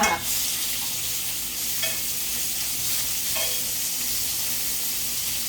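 Bacon sizzles steadily in a home kitchen pan with a continuous crackling hiss and a few brief utensil scrapes, and no one talks.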